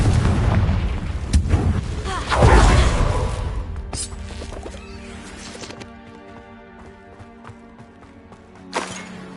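Spell blasts from Bombarda and Confringo in the game Hogwarts Legacy boom and crackle in a loud burst early on. They fade into a quieter ringing tail, and a sharper hit follows near the end.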